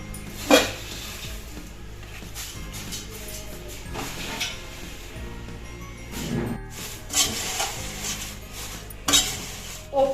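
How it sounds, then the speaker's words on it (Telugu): Flattened rice (poha) roasting in a pan for a tempered poha snack, with repeated scraping and stirring clinks of a spoon against metal and a soft dry sizzle, fairly close, no talk. "అటుకులను అయితే వేపుకుంటున్నాను."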